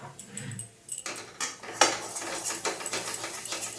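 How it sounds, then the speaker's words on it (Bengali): A utensil stirs fried spice mix into jackfruit masala in a pan, heard as close scraping and clinking against metal in irregular strokes, with no talking. "সেই মশলাটা দিয়ে দেবো, দিয়ে নেড়ে নেবো"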